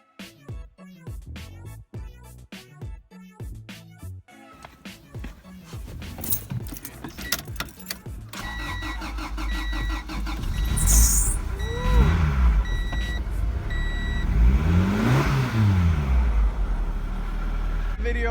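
A Honda Integra engine cranks and catches after keys jingle and clicks, then settles into a loud idle with a few rising and falling revs, close by, while voices talk in the background.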